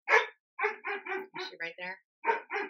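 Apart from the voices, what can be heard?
dog barking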